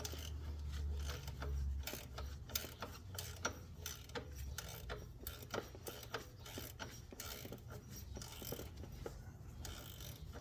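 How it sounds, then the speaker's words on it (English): A ratchet wrench works the 15 mm bolt of the serpentine belt tensioner pulley on a 2004 PT Cruiser, giving steady rapid clicking in repeated bursts, close and fairly quiet, with no talking. "You can't get a socket in here, so you need a wrench or a ratchet wrench."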